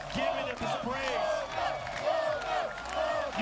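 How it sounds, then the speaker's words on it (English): A tournament crowd roars and cheers for a first-place winner, with rising whoops and shouts layered in a dense, sustained wall of voices. "The crowd, of course, giving him his praise."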